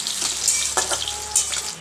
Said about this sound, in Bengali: এদিকে আমার আলুটা আর পেঁপেটা ভাজা হয়ে যাচ্ছে প্রায়